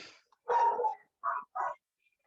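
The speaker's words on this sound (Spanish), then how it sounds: "ay, estos perros." A dog barks three times near the microphone, first one longer rough bark and then two short sharp ones in quick succession, with quiet gaps between.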